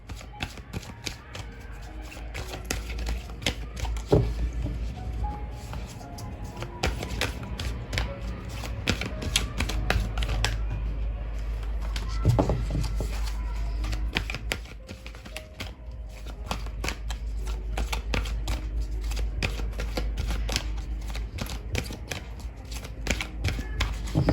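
Tarot cards being shuffled close up in a continuous run of quick papery riffles and flicks over a low steady hum, with no speech.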